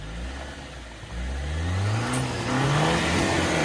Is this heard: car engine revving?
yes